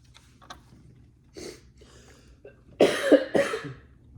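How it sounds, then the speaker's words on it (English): A man coughs several times in close succession nearby, a harsh burst of coughs following a few faint clicks and small sounds earlier, during the unboxing of a 1/18 Hot Wheels Elite Back to the Future DeLorean time machine model. "he's got a bit of a cough"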